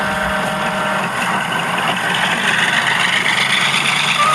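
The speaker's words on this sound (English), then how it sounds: "Oh, sorry, that's my engine. It gives off a roar." Steady, loud engine roar with a heavy low rumble and broad hiss, holding constant without breaks.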